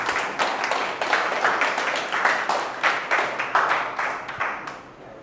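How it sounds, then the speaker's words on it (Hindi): An audience clapping together in rhythmic unison, a fairly close, steady pulse of about two claps per second with a slight swell on each beat, fading away at the end. "एक बार तालियां बजाओ सब।"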